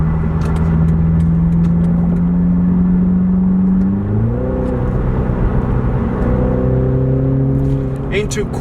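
A BMW Z4 sDrive30i G29 roadster with a ZF transmission in its sport setting accelerates hard, its steady engine drone dropping briefly during a quick gear change before pulling on, heard from inside at close range.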